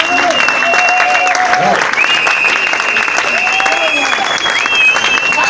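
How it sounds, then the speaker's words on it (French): Church congregation applauding loudly and steadily at a French-language pastoral conference, dense continuous clapping close by with cheering voices rising through it throughout. "Est-ce qu'on peut acclamer le Seigneur très fort?"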